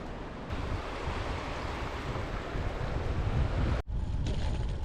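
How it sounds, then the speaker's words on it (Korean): Water rushing beside a riverside cycling path between Chuncheon and Seoul, a steady broadband roar mixed with wind buffeting the microphone, with a brief dropout near the end. "물소리를 들으며 정신을 다잡습니다."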